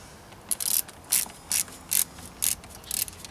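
Ratchet clicking while tightening a loose connection on a solar panel setup for a utility trailer shed, with short bursts of close, crisp ratcheting repeated about every half second.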